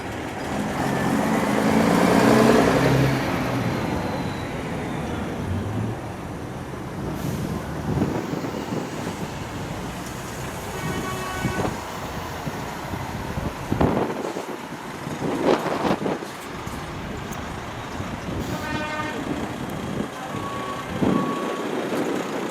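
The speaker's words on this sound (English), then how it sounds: "Team Coulter departing now. A little bubble Volvo, the F86" Reversing beeps ring out from a Volvo F86 bubble-cab truck leaving the Truckfest Scotland exit parade, with diesel rumble, wind buffeting and scattered horn blasts and mechanical clanks around it outdoors.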